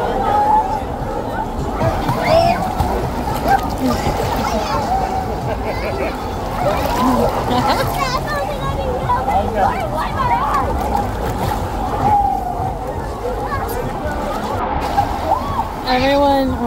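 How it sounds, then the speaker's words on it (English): Crowds chatter and shout over churning, splashing water in a busy wave pool at Coco Cay, a continuous wash of surf noise filling the whole stretch with voices layered on top. "Everyone rushes over to the sides when the waves get like this."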